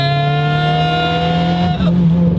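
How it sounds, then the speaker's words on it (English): Turbocharged KA engine in a Nissan S14 240SX revving hard and bouncing off the rev limiter, a loud, steady high-pitched drone that stutters briefly near the end, heard from inside the car. "Up, hit the rev limiter."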